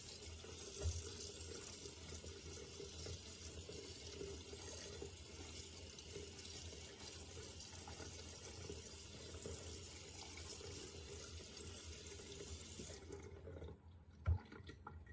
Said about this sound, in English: make sure that each grape is thoroughly washed with water